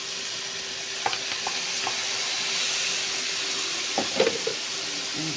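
Pepper slices hit a pan of onions cooking for shawarma and fry with a steady close sizzle, broken by a few stirring taps and clinks from a utensil, with no one speaking.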